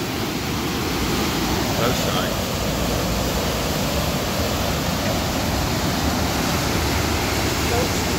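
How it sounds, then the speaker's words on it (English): Water rushes steadily through automatic electronic sluices, a loud, continuous broadband roar close by, with a short spoken remark barely rising over it. "There's a lovely flow of water in there."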